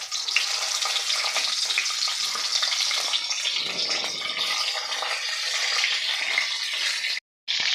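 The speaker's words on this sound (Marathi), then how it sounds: "जिरं मोहरी फुलले की लगेचच यामध्ये आपल्याला वांगी घालायची आहे." Eggplant frying in hot oil with popping cumin and mustard seeds, a dense continuous close sizzle with crackling, dropping to silence for a moment near the end before resuming.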